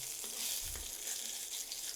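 Five dry red chillies and three split green chillies fry in hot oil, giving a dense, steady crackling sizzle close up, with a brief stirring knock.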